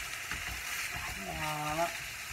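Meat sizzles steadily in a hot pan, a continuous crackling hiss with a brief stirring or scraping sound midway and a hint of voice at the edges.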